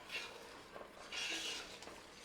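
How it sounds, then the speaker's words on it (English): Soft scraping and faint clinks as garlic and ginger are gently stirred in a pan while cooking down for vindaloo paste, in a few short, quiet strokes. "So you just got to keep giving it a gentle stir, you know."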